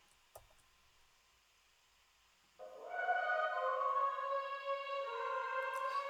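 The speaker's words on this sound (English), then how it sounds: "That's sounding more like a drone" A vocal track run through EQ and a bright, long reverb swells into a sustained, droning wash of tones, faint at first and then steady and smeared.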